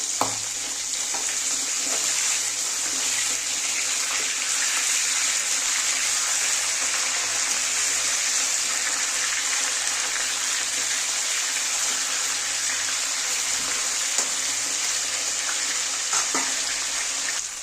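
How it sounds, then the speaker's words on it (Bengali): Katla fish heads fry in oil with a loud, steady, close hiss and sizzle that holds for the whole stretch, with no talk. "দেখো মাছের মাথাগুলো ভাজা হয়ে গেছে, এবার আমি তুলে নেব।"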